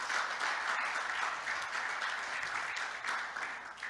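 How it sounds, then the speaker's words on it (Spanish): Steady, dense applause from a church congregation at a Thursday service, sustained at an even level throughout without pause and with no voices over it. "Vamos a dar un aplauso a los que nos ven por las redes sociales"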